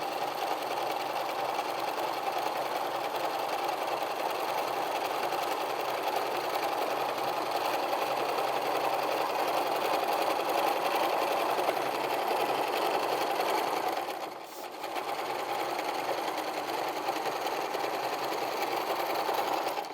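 A sewing machine stitching the side of an apron, a steady close whirring hum that runs continuously, with one brief dip in speed near the end before resuming.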